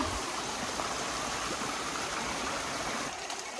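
The Piranha River flows steadily close by, a dense, even broadband rush of moving water that stays constant throughout with no voices.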